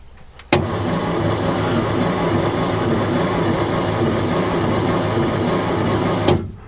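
A Commer Superpoise lorry's straight-six engine turns over steadily on its starter motor for about six seconds, a loud, continuous, even cranking churn that stops abruptly without the engine firing.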